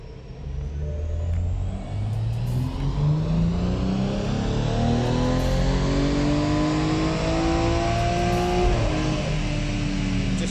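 Tuned BMW M135i with intercooler, forged charge pipe and stage 2 ECU and TCU tunes accelerating hard, engine note climbing through the gears in long rising pulls, loud and close with no talk.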